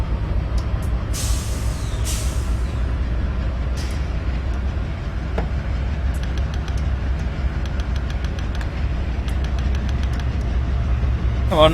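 Hissing air brakes of a CSX Dash 8-40CW locomotive in Train Simulator 2015, steady loud rumble with several sharp air releases, no talking.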